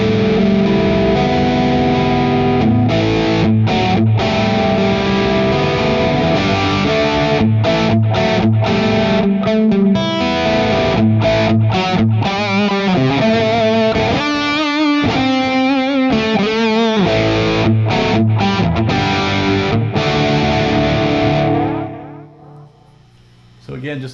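Lead tone from an electric guitar plugged straight into a Mesa Boogie Lone Star amp, a sustained driven line with bent notes and quick runs, loud and close, played alone for about twenty seconds before cutting off.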